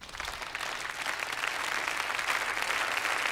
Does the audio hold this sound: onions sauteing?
no